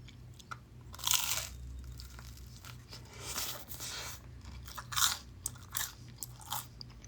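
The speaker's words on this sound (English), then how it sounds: "Ready for the crunch?" Crunchy food bitten and chewed up close during a mukbang, with sharp crisp crunches coming in irregular bursts between quieter chewing and mouth sounds, no talking.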